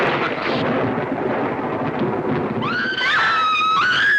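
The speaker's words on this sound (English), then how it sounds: "a sudden clap of thunder and the lights went out" A deep rumble of thunder rolls continuously, then high whistling tones cut in over it near the end.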